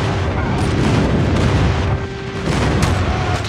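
A friendly airstrike hits during a Call of Duty multiplayer match, producing loud, continuous rumbling explosions and crackling blasts that briefly dip midway before returning, with no speech heard.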